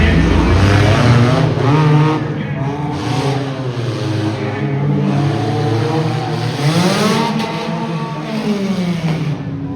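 Mini monster trucks race at an indoor motorsports show, engines revving loudly with rising and falling whines that sweep up and down over continuous crowd and arena noise.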